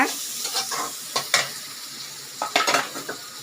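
Onions sauté in a pan for potato masala, a steady low sizzle broken by a few quick scraping stirs of a spoon against the metal.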